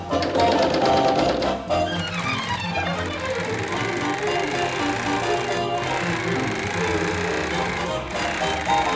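A serger overlocker stitches along a fabric edge while sewing a top, a rapid, loud mechanical chatter running steadily with brief pauses and restarts.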